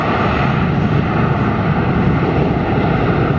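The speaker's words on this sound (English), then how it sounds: "An aircraft there." A fixed-wing airliner with split scimitar winglets passes loudly at Atlanta airport, its steady engine roar filling the whole stretch without a break.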